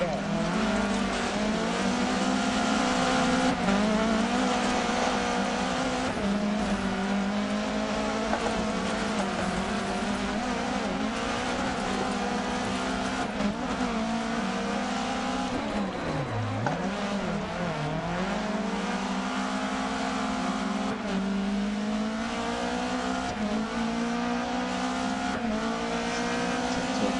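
Rally car engines drone continuously in the racing game RX Championship, a steady high whine that dips briefly and recovers as the cars race close together, with voices over it at times.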